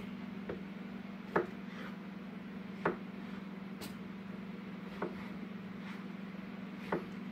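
Knife slicing zucchini and yellow squash on a cutting board, with about six sharp, separate cuts spaced roughly a second apart over a steady low hum.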